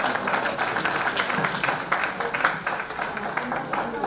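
Crowd applause at a housing key handover ceremony in Bassam, a steady patter of many hands clapping at moderate volume throughout.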